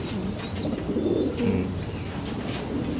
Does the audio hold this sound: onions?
no